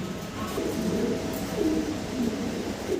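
Mundian blue bar pigeons in a breeding loft coo steadily in low, rolling phrases, with several overlapping calls close by and a constant murmur of other birds behind them.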